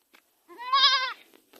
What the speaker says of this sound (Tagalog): mga mama namin na kambing